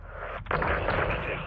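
Heavy 40 mm cannon fire in Call of Duty: Modern Warfare 2, a loud continuous roar of booming shots with a brief gap before the barrage resumes.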